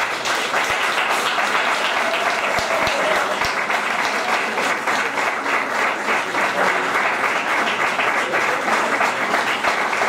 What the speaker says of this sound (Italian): Partiamo con un applauso.